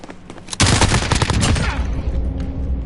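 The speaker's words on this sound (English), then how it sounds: "This gun shoots fast." A fast-firing gun in Call of Duty fires a loud, close, rapid automatic burst that starts abruptly and rattles on for about two seconds before trailing off.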